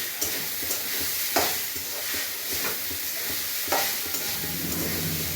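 Three cups of grated coconut dry-roasting in a pan for ragi modaks, stirred with repeated scraping strokes over a steady soft sizzle, close and fairly loud, with no voices.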